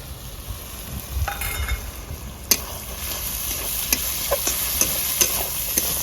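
Cashews and raisins frying in hot oil with peppercorns in a pan, stirred with a utensil: a steady sizzle under sharp scraping clicks and taps recurring through the middle and end, with no talking.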